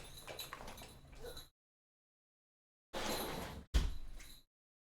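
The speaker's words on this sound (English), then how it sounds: "Let me close the back door." A back door being shut late at night, giving a muffled sliding rush and then a single solid thud close by after a brief silence, with no talking.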